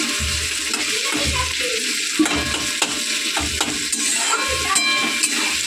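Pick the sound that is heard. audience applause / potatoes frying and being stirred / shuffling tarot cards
potatoes frying and being stirred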